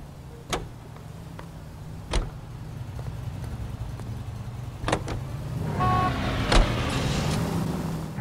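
A car in the video game L.A. Noire drives along at a steady low hum, with a few sharp clicks and knocks over it and a rougher rise in engine noise toward the end.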